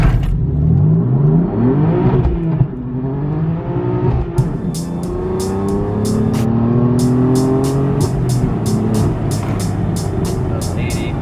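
A BMW F80 M3 tuned to about 391 horsepower pulls hard from a standstill on a 0-60 run, its engine rising steadily in pitch through the gears, loud and close, with brief voices talking over it.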